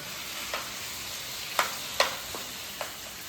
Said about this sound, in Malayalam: എനിക്കൊരു കഴിവ് ചെമ്മീൻ വറക്കാം.